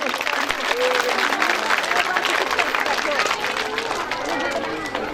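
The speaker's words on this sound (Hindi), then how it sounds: "टीचर्स के लिए भरपूर तालियां हो जाए।" Applause for teachers at a school annual program: a crowd claps steadily and densely for the whole stretch, with faint voices murmuring underneath.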